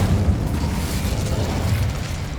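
A fire spell cast in Hogwarts Legacy gives a steady, full roaring whoosh of flame with low rumbling body, sustained for a couple of seconds without pause.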